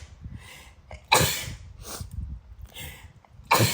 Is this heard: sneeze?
yes